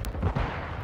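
A single sharp sniper rifle shot rings out during Call of Duty MW2 gameplay, a brief loud crack at the very start followed by a low rumbling tail and game ambience.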